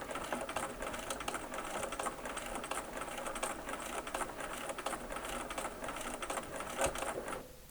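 A sewing machine runs a steady, continuous stitch along a quilt seam for an eight-point star block, a close, even mechanical whir that eases off right at the end.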